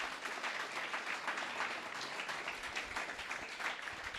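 Church congregation applauding at a Spanish-language sermon, continuous dense clapping held at an even level throughout without a break.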